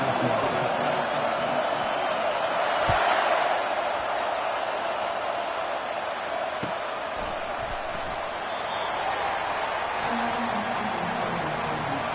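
Stadium crowd roaring steadily at a college football game in College Football 25, a dense wash of cheering that fills the whole stretch, with occasional sharp thumps and whoops standing out.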